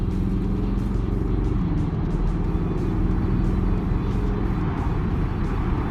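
Aston Martin Vantage Roadster engine running in Sport mode, a steady loud drone heard from inside the car, holding an even pitch throughout with no talk over it.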